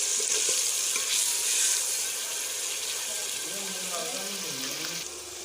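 Onion and garlic frying to light brown in a pan, a close, steady sizzle with some stirring scrapes toward the end, no talking.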